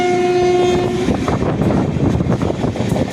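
An Amrit Bharat Express train rolls loudly past Kollidam railway station in Tamil Nadu, a steady horn tone sounding at the start before giving way to rumbling wheels and clatter, close and continuous.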